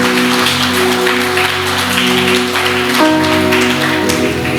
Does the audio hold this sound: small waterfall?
no